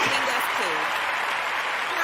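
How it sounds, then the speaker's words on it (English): Steady applause from a crowd fills the space, dense continuous clapping close up, with voices talking faintly underneath. "I'm applauding, clapping it up for Mo"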